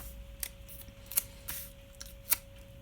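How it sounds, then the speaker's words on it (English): An address label peels off a sheet of labels while a wedding invitation is assembled by hand: a few brief, crisp ripping bursts, close and fairly quiet, with no talk. "Simply peel your label off"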